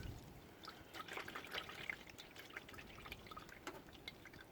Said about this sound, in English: So if you just let that drain for about 10 or 15 minutes,